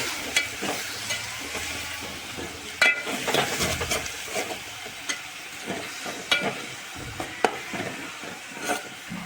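Methi bhaji leaves with salt stirred in a pan, Kathiyawadi village style, giving soft repeated scraping and a light sizzle with occasional sharper clinks of the spoon against the pan, no talking.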